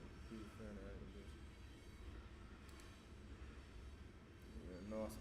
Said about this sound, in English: So y'all shouldn't hear the train as much now.